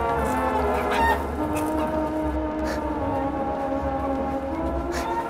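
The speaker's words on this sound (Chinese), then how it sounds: "抓这只公鸡！" A rooster clucks repeatedly in a garden during a lively chase to catch it, with short close calls over a steady background hum and soft music.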